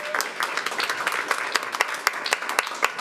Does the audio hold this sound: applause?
yes